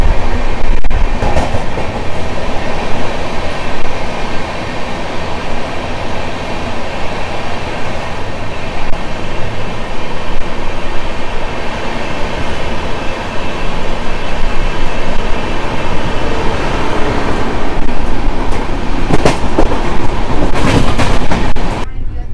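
Rumbling, rattling interior noise of India's fastest double-decker train in motion, heard from the lower deck, with steady clickety-clack of wheels over rails throughout and a louder burst near the end.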